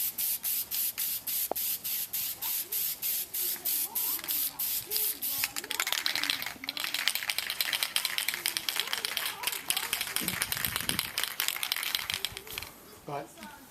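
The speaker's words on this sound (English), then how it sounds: "I'm probably going to have to put more than one coat on here to get full coverage" Spray primer hisses onto a wooden hatchet prop from close by, first in a quick series of short, regular bursts, then in a longer, steadier, louder spray that fades near the end.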